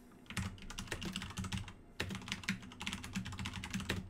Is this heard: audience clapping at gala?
no